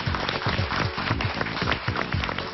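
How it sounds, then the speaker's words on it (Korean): Studio audience applause on a Korean TV variety show, rhythmic group clapping throughout, fairly loud and steady with people talking over it. "박수 들어보시겠고요."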